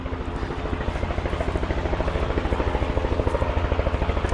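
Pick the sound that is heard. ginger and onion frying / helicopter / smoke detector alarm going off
helicopter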